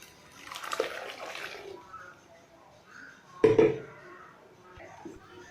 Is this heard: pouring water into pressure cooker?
yes